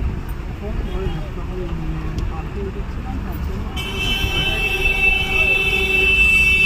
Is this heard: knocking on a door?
no